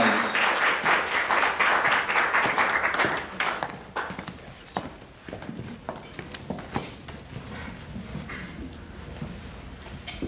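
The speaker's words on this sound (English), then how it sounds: "let's give a warm round of applause for Ajane Gill" An audience at a 2014 New York high school poetry contest claps warmly, a dense burst of applause that thins after a few seconds into scattered, fading claps.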